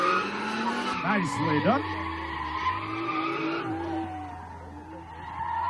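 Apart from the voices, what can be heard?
race car spinning out and skidding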